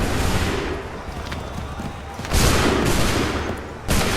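A volley of muskets fired on command in Assassin's Creed III, loud crackling bursts of many shots at once, two distinct salvos over a noisy battlefield background.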